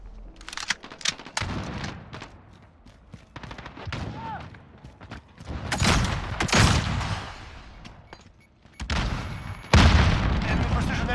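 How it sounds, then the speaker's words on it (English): Airstrike explosions and gunfire in a video game, heavy booms and crackling volleys in clustered bursts, loud and close, with shouted voices mixed in among the blasts. "Enemy precision airstrike! Get down!"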